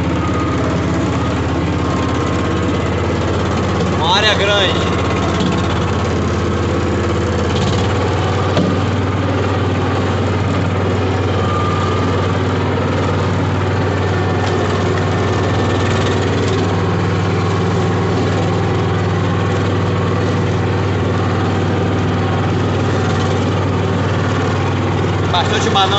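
Tractor engine running steadily while clearing brush on a farm, a continuous low droning hum with occasional rattles, near and constant throughout as someone talks over it at times.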